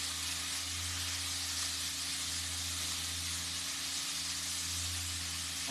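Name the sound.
bacon squares frying in hot pan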